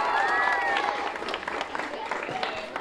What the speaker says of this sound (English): How about a nice round of applause for Catholic High?